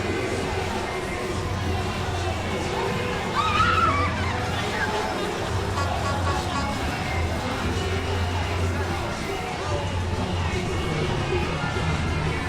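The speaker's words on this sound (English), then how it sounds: "That's a truck pulling a bus." A truck towing a bus along a Mardi Gras parade route, its low engine rumble running steadily at moderate distance beneath crowd noise and talking voices.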